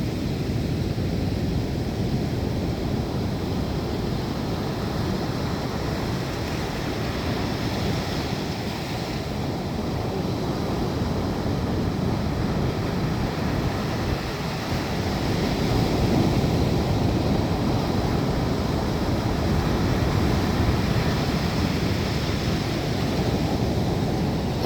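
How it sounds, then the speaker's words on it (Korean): Rough sea waves breaking on a sandy beach at Jangsa Harbor in Sokcho, a continuous rumbling surf roar with rolling swells and hissing wash, steady and close, no voices. "이렇게 썰물이 딱 빠지면 쫙 하는 그런 소리가 반복되죠."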